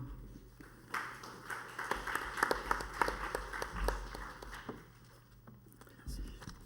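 A room full of people claps for several seconds, the applause rising then fading, with a faint murmur of voices underneath.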